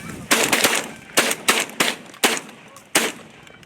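Several loud, close shotgun blasts fired at geese during a goose hunt in a corn field, about six sharp reports in an irregular sequence with brief gaps between them.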